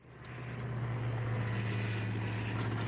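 An airplane flying through a storm toward Spokane gives a steady, droning engine hum that swells in the first half-second and then holds loud and even, with a dull rushing wash beneath it.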